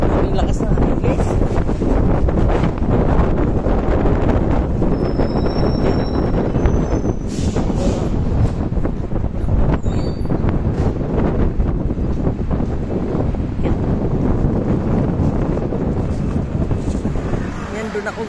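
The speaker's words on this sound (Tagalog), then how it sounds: "Lakas na hangin" Strong wind roars and buffets the microphone throughout, a constant loud rumble with traffic passing nearby and someone speaking intermittently over it, at a park in Taipa, Macau.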